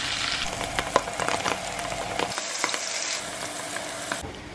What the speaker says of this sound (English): I'm gonna fry the cheese.